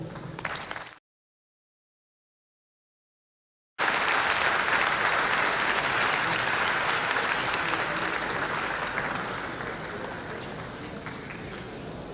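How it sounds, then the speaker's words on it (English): An audience at a lecture on oxidative stress claps, a brief burst followed by a gap of silence, then sustained loud applause from a crowd that slowly tapers off. "Another round of applause for our"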